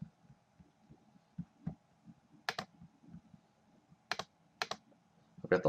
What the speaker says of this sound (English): I've got the loudest clicking buttons on my touchpad